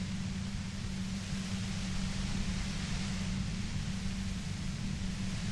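Steady hiss of white noise from the game Disco Elysium, loud and unbroken from start to finish, with a low rumbling hum beneath and no voices.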